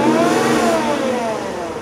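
A 2006 Porsche Cayenne S and its 340-horsepower engine take a brief smooth rev, the note climbing and then easing off, heard close and moderately loud.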